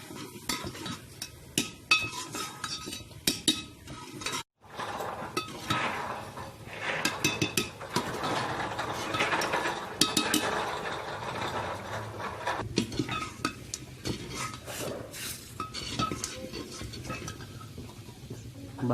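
Chicken curry with spices is roasted and stirred in a pan in a Punjabi village kitchen, with repeated scraping and clinking of a utensil against metal, irregular bursts close by over a quiet background.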